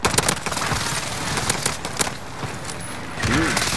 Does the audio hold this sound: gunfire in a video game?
yes